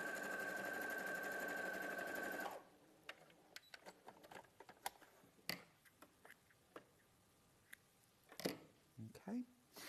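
A sewing machine runs a quarter-inch seam with a steady, close mechanical whir for about two seconds, then stops. Scattered clicks and fabric handling follow while a person talks.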